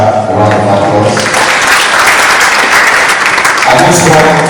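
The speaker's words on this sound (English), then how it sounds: "Once again, I will give the speaker a round of applause." Audience applause at a women's business summit, a dense sustained wash of clapping filling the room at full volume, with a voice talking faintly underneath toward the end.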